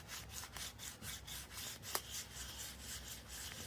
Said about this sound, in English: You gotta go real slow, because if you push too hard, you go way down into it and you don't want to sand through the rust.